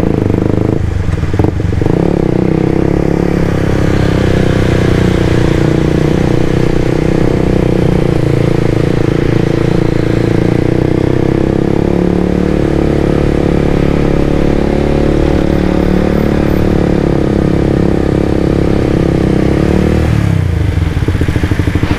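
A Suzuki GSX-R 150 motorcycle engine drones steadily while riding in traffic toward Lembang, a loud, close, continuous hum with wind rush and a slight dip in tone near the end.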